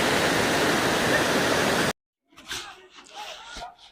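Reel Waterfalls near Kodaikanal produce a loud, steady roar of rushing water close at hand. After about two seconds the roar cuts off abruptly, and a few faint, scattered sounds follow.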